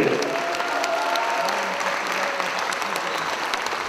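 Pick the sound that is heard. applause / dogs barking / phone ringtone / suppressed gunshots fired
applause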